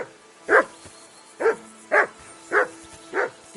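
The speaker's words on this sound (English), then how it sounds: "Henry, whistle at that mutt of yours to stop barking." Dog barking in the video game Kingdom Come: Deliverance 2, five loud, close single barks spaced about half a second to a second apart, with little else in the background.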